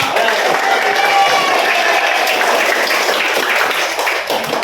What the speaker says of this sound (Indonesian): tepuk tangan dong untuk semua